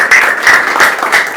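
Church congregation clapping in praise, rhythmic group claps about four per second, loud and close, with no speech over it.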